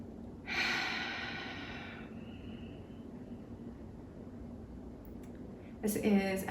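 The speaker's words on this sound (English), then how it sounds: "we're going to take a deep breath in and exhale with our eyes open" A single long, audible breath drawn in and then released during a guided breathing meditation, close and breathy, followed by quiet and the start of a voice.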